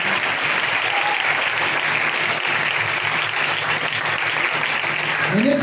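A church congregation at an anniversary celebration claps steadily and loudly, a dense, even wash of many hands that continues without pause throughout.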